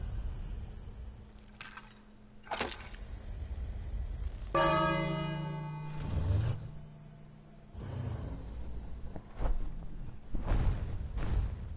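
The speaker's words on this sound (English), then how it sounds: "You ring the bell." A bell ringing in the King's Quest video game, with one resonant strike sustaining for about a second amid softer surrounding game sounds and thumps.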